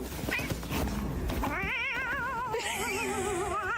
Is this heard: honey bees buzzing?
no